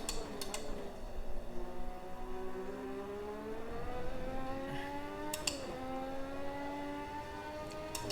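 Formula 1 car engine in the racing game Automobilista 2 revving high, its harmonic whine climbing and dropping through gear changes over eight seconds, loud and continuous with sharp shift blips, no talking.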